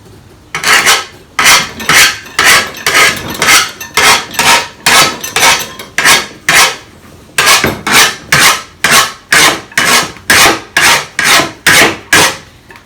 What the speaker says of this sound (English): once you start sharpening it, you can actually see how it brightens up